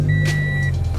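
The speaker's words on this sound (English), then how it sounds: "start engine idle for 45 seconds" A car engine idling steadily with a low, continuous hum and a faint high whine, close and loud, with a brief whoosh near the start and no talking.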